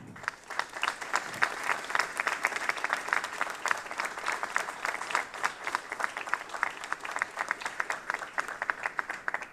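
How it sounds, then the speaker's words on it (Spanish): Dense, steady applause from an audience opening the ordinary sessions of a municipal council in 2021. Many hands clap at once for the whole stretch, evenly loud, with no pauses and no talk over it. "Un aplauso les pido para todos ellos."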